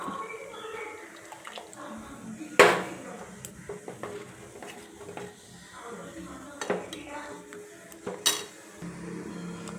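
Milk poured into salt porridge in a pot, among close clanks of pot and utensils, scraping and light liquid sounds, with a few sharp metallic knocks.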